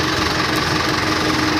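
A tractor engine idles with a steady, rough, low drone while stones are loaded at a digging site, close and continuous with no voices.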